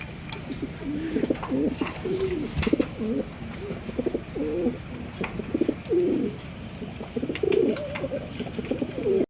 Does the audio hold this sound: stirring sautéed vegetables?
no